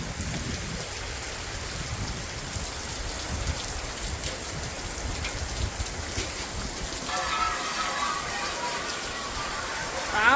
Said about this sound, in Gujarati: કંઈક વરસાદ પડે છે